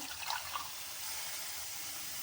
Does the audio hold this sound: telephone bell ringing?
no